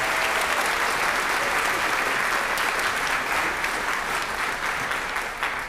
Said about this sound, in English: can we give a round of applause for all the students for their ribbons they've earned this year?